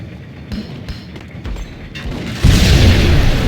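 Game gunfire and explosions in the shooter Apocalypse Cop: scattered thuds and shots early on, then a loud sustained booming blast rolling through the final second.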